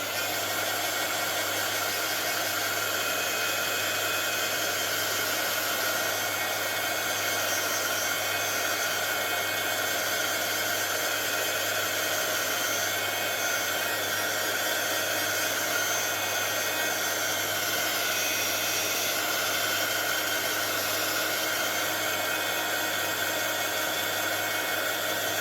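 A blow dryer roars continuously and steadily up close for the whole stretch, a dense, unbroken airy whir with no pauses or talk.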